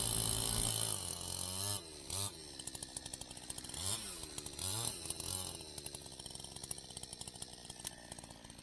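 A chainsaw roars loudly and continuously, its engine pitch rising and dipping as it bites into a wooden pillar with metal fittings, then settling into a rattling idle.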